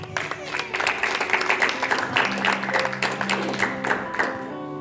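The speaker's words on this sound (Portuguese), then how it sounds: "Aplauda o Senhor." A church congregation applauds during a worship service, steady dense clapping that fills the room with a sustained, mid-loud patter, with tonal music or voices running underneath throughout.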